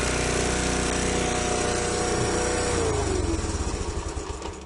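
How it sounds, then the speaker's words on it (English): A Honda CT110 motorcycle engine idles too fast in neutral, a steady loud buzzing drone that holds high before its pitch sags and the revs settle lower toward the end. "Idling way too fast."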